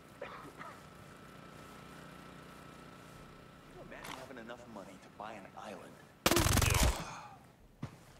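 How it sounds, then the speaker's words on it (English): A single loud burst of rapid automatic fire from a gun in Ghost Recon Breakpoint follows quieter game sounds, with a voice talking beforehand. "Damn, this gun's rate of fire is just absurd."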